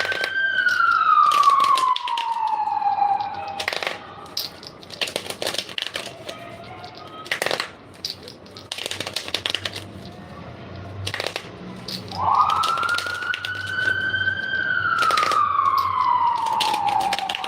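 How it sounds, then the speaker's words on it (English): A wailing siren rises and falls twice in long sweeps, with sharp clicking and tapping sounds scattered throughout. "You hear them sirens?"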